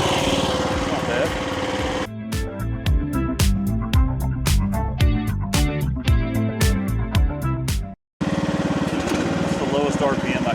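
AGT WH12R Chinese mini excavator's small engine running at low RPM while digging, a buzzy, lawn-mower-like drone interrupted by a stretch of rhythmic clanking knocks, then a brief cut and the engine hum returning.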